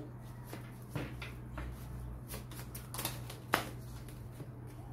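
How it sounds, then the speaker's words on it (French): Tarot cards drawn and handled on a table, a few soft papery slides and light taps spread over a quiet stretch, close and faint with no talking. "je vais prendre la première carte"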